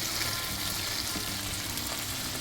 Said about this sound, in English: We got the eggs in. Stir that up for a little while.